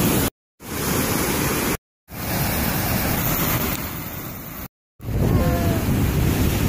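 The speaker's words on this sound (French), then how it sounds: "Là, il y a une cascade." Continuous roaring rush of a waterfall in New Zealand, broad and loud, broken by a few abrupt silent gaps, with wind buffeting the microphone.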